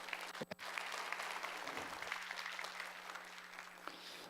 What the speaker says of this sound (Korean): 찬성하신다면 우리 박수로 한번 통과시켜 주시죠